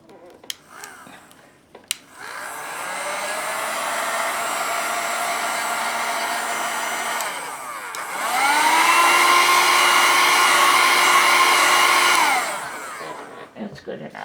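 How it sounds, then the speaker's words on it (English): A hair dryer blows on a watercolor painting, a steady whirring hum that runs, briefly drops, then returns at a higher, louder setting before switching off, with faint handling clicks at the start and finish. "Let's dry it with a hair dryer."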